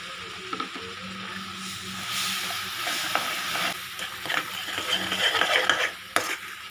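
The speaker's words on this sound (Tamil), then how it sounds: "நம்ம காய்ச்சி வச்ச பாலை கொஞ்சமாக ஊற்றி மிக்ஸ் பண்ணிடலாம்" Boiled milk poured into fried rava semolina sizzles in a pan while a spoon stirs and scrapes for rava ladoo, a loud, close wash of bubbling with irregular scraping strokes growing busier toward the end.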